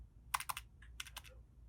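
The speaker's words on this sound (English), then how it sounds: "Here is the sound of the switches and how they sound." A short burst of typing on a Razer Huntsman Mini mechanical keyboard with linear switches, a handful of quick clicky keystrokes in two small clusters, close and fairly quiet.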